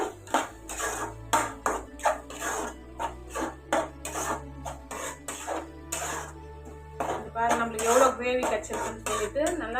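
A spoon scrapes and clatters against a pan in repeated strokes as prawn gravy masala is stirred and fried, with a low steady hum underneath.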